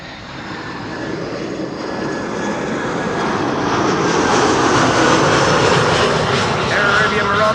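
An Air Arabia Morocco airliner arriving at Schiphol produces a loud, sustained jet roar that swells gradually as it passes close by, steady and unbroken throughout.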